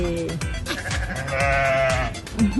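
Goats bleating repeatedly at a farm in Marrakech, several wavering calls overlapping one another up close amid general livestock commotion.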